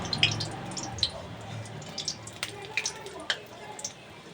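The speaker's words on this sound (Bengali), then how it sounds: "এইভাবে সব কটা আমি ভেজে তুলব।" Drumstick-flower fritters coated in rice flour frying in hot oil, a soft steady sizzle punctuated by sharp crackling pops, fairly faint, with a voice speaking over it.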